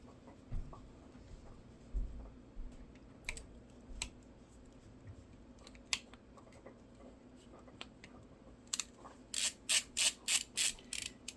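Small screws on a DM20 DMX handheld being turned counterclockwise with a small screwdriver, heard as faint scattered ticks and scrapes, then a quick run of six sharp ratcheting clicks near the end, with no talking.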